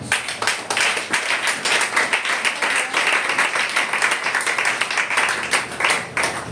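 A church congregation claps in a fast, steady rhythm in praise, dense and loud throughout with no pause.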